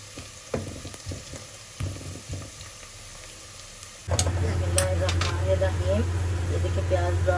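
Onions brown over a medium flame in a pan, first with faint sizzling and occasional stirring, then a sudden louder, steady sizzle with clinks, while someone speaks throughout.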